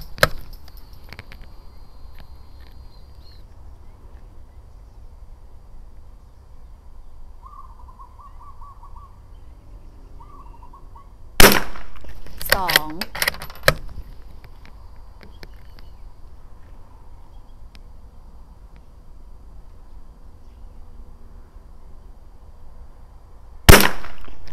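A CZ 457 rifle fires sharp shots outdoors, each a sudden loud crack. The first comes around eleven seconds with a quick follow-up, and the last lands near the end, all against quiet background.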